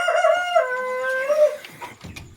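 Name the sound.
fancy chickens clucking and crowing on a farm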